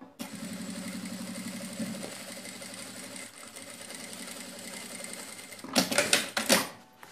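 A sewing machine stitches a seam on a fabric bag, a steady close whirring run of rapid needle strokes, then a few louder clunks at the end.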